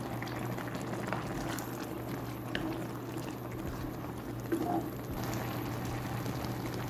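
Jjajang tteokbokki, rice cakes with a boiled egg in black bean sauce, bubbles in a pot at a steady, even simmer, a continuous close burble with occasional small pops and no voices.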